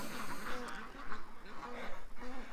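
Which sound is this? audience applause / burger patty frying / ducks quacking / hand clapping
ducks quacking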